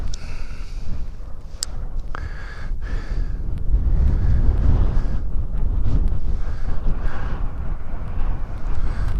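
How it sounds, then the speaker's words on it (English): Wind gusting across an exposed hilltop overlooking reservoirs, a steady loud low rumble and buffeting on the microphone that swells in the middle and persists throughout, with a few faint brief clicks and no talk. "It's windy up here though."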